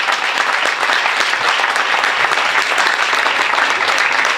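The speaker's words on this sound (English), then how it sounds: "give a round of applause to Mr." A high school graduation audience applauds Mr. Robinson after a motivational speech, a loud, even wash of many hands clapping continuously throughout.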